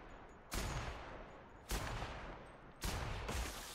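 Three heavy bursts of gunfire in the video game The Outer Worlds, each loud and sustained with a sharp onset and a slowly fading roar, spaced about a second apart.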